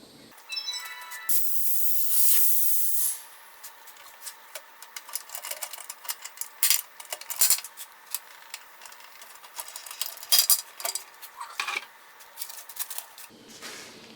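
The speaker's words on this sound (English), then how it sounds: "I'm going to put it in the pressure pot, which is not very dramatic" A pressure pot is pressurised with a loud, sharp hiss of escaping air lasting about two seconds, followed by a long run of faint, scattered ticks and clicks in a quiet room.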